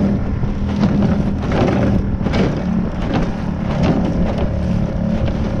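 A small boat's outboard motor runs steadily near a sandy shore, a close, constant low drone with wind buffeting the microphone.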